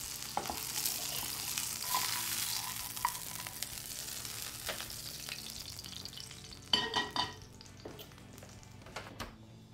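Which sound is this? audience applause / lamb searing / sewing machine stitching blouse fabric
lamb searing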